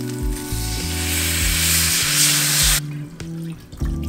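Red wine poured into a hot pan while cooking slow-cooked short ribs, a loud steady sizzle and hiss that runs for nearly three seconds before cutting off sharply, leaving low background rumble.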